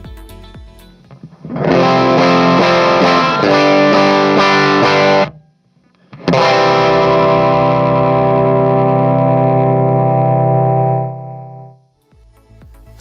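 An electric guitar with effects plays a song ending moving from the four chord to the five chord, a distorted strummed passage, a brief pause, then a final sustained ringing chord that slowly decays.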